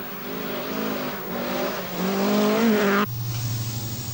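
Rally car on a tarmac stage of the 1982 RAC Rally, engine revving and climbing in pitch through gears as it passes close and loud, then cutting abruptly to a steadier, lower drone.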